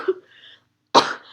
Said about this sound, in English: Sorry, excuse my coughing,